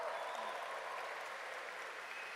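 Crowd applauding at Gamescom, the video game event, a dense, even wash of clapping sustained throughout at a moderate distance, with no voices above it.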